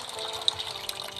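Water trickles and splashes into a cooking pot in a home kitchen during a quick, faint pour, with no speech over it.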